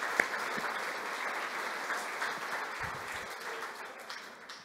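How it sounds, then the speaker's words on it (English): A crowd in a synagogue applauds steadily for several seconds, a dense wash of clapping in a large room, fairly distant. "We can clap for them."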